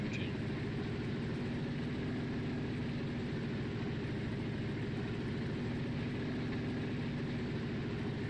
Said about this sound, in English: I don't know if you guys can hear the sound of this amazing engine.